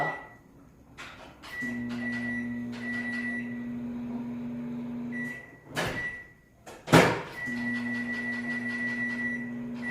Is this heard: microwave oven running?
yes